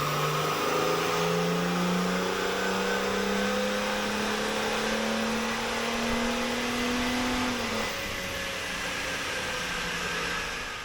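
A BMW N57 diesel engine with a 3.5-inch air intake, a DeWalt fan feeding the intake, revs in a steady rising pull on a power test, then drops off sharply; loud and continuous throughout.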